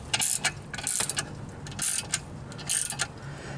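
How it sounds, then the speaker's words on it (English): Ratchet wrench tightening the clutch pressure plate bolts on a Jeep Wrangler TJ during a clutch replacement: quick bursts of close, crisp clicking, about four runs separated by brief pauses. "So go around it, gently tighten them all down."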